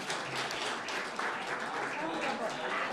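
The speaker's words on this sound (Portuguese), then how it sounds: "Uma salva de palmas para Alexandre de Moraes" An audience applauds at a political gathering, a fairly faint, busy spread of clapping that runs steadily through the short stretch without a clear start or finish.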